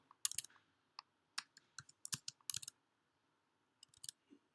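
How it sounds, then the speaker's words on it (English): Quick, light clicks of data being typed on a computer keyboard, coming in uneven bursts of keystrokes with short pauses between them, close and fairly quiet. "I hope I'm not making any mistakes in typing the data."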